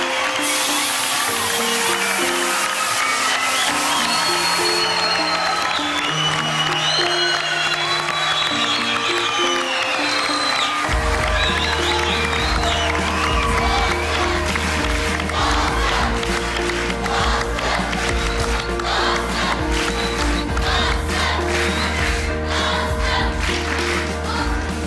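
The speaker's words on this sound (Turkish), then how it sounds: "Alkışlar." Studio audience on a Turkish TV singing competition on FOX breaks into loud, sustained applause and cheering, a dense continuous roar lasting well over twenty seconds with music underneath.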